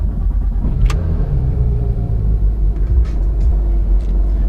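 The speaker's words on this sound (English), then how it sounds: "jump in the GT3, head on over there." A Porsche GT3 being driven produces a steady, loud, low engine rumble heard from inside the car, with a few faint clicks and ticks over it.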